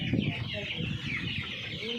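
Chickens at a poultry farm cluck continuously in a busy group, several birds at once at moderate distance with a faint background murmur.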